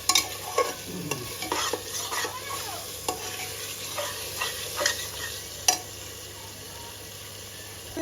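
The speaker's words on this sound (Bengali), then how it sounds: "মশলা এগুলো ভালোভাবে ভেজে নিচ্ছি" Ground spices frying for a tripe (bhuri) curry, stirred in the pot with repeated clinks and scrapes over a steady sizzle, close and moderately loud, with no talking.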